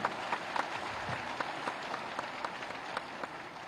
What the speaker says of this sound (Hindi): और आप सब लगातार तालियां बजा